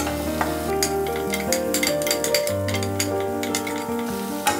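Chopped large onions sautéing in a pan for pav bhaji: a steady, close sizzle with scraping stirs throughout, set against soft background music and no talking.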